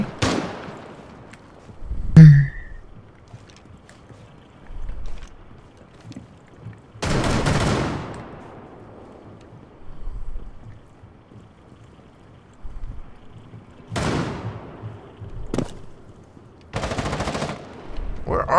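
Rainbow Six Siege gunfire rings out in several loud, sharp bursts spaced apart, with quieter shots and game noise between them.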